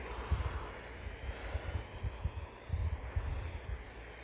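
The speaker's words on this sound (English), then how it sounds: "And what a nice little plane." An Eachine T-28 RC model plane flies outdoors, its small electric motor giving a faint, thin whine under gusty wind buffeting, with no talk.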